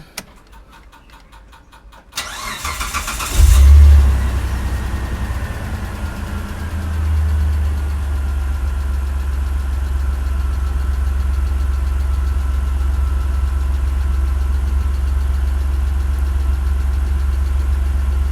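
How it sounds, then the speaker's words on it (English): A 2004 Mitsubishi Pajero GDI engine cranks briefly, catches with a loud burst, then settles into a steady, rumbling idle that continues close and even for the rest of the clip. "Let's start the engine."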